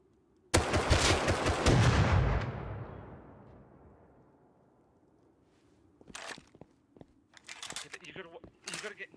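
Gunfire in the survival game Rust: a loud burst of rapid shots fading into a long decaying echo, then scattered sharp shots and clicks a few seconds later.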